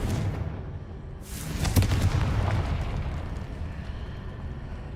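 A Confringo blasting spell goes off in a Harry Potter video game, a sudden booming burst with a bright crackling rush that rolls into a long, fading rumble.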